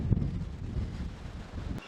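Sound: strong wind outdoors

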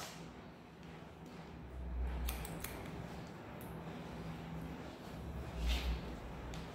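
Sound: scissors cutting straight hair

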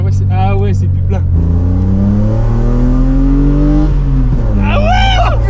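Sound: BMW 335i E30 accelerating in fourth gear

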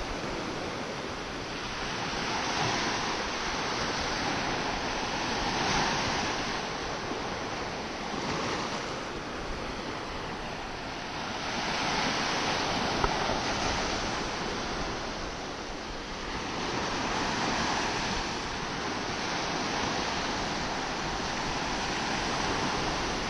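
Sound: sea waves on the shore

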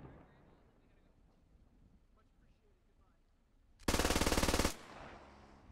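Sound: MG42 machine gun firing in video game Squad Ops

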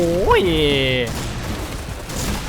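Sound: gunfire in a video game

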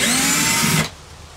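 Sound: power drill opening extension cord reel housing

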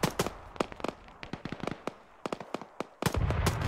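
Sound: grenade explosion in a video game (ShackTac Arma)

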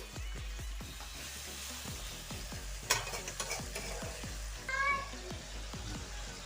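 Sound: frying onions in pan

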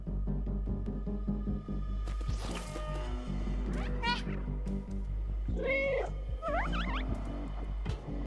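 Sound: cat meowing in video game Stray

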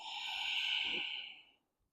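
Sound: exhaling during a yoga exercise

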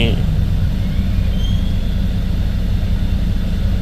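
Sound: car engine running after just being started

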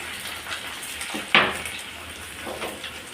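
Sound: dried red chillies and garlic frying in oil

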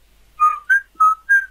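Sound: person whistling

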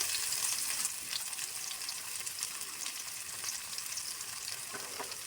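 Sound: chopped onion and garlic frying

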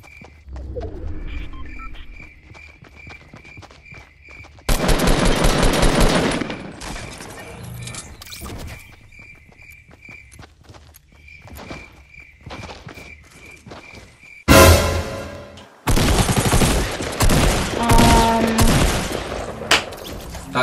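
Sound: gunfire from a gun in the video game Fortnite

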